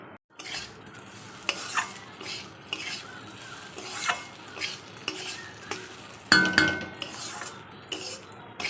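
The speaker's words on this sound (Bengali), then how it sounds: "চালটা হালকা করে ভেজে নিই" Soaked Gobindobhog rice frying in a pan, a soft sizzle under repeated scraping and clinking of a metal spoon against the pan as it is stirred, with occasional sharper clanks.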